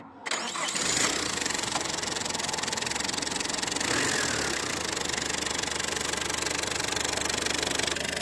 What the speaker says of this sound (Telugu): ఇంజిన్ సౌండ్ నీట్ అండ్ క్లీన్గా ఉంటుందండి